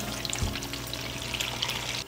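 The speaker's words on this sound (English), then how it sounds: "I'm flipping the bacon in the pan on the stovetop" Bacon frying in a pan on a stovetop, a constant close sizzle with a soft thump and clatter as the strips are flipped early on, with no speech.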